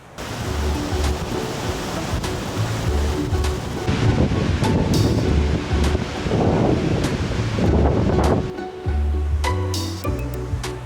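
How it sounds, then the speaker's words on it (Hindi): Heavy water rushing down over rocks at Sissu Waterfall in the Lahaul Valley, a loud continuous roar that swells and surges in places, with wind buffeting the microphone. "नीचे पत्थरों से टकराता हुआ पानी नीचे उतर रहा है ना"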